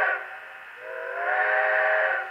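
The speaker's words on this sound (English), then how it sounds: "I know that the whistle isn't very prototypical for this model" A model steam locomotive whistle produced by a Tsunami sound decoder, one sustained multi-tone blast that holds steady and swells slightly before cutting off, loud and clear with no talking.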